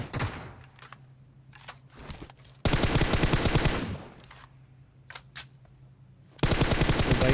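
Gunfire in a solo-versus-squad battle royale video game, loud dense automatic bursts in two long stretches with scattered single shots and clicks between them, no talk.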